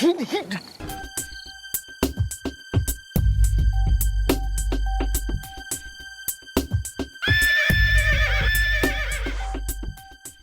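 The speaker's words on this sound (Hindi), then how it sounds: "सुन ले हिनहिनाहट" A horse whinnies loudly with shrill, quavering neighs, accompanied by hoof clip-clops and rhythmic thuds, with brief voices in between.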